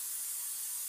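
A short, steady hiss of a spray bottle misting corn tortillas for enchiladas, one continuous close burst of fine spray with no voices.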